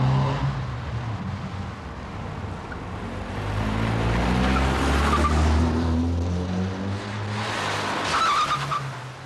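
Two cars speed down Broomfield Avenue at around midnight, a steady loud roar of engines and tyres building and holding throughout, with no talking.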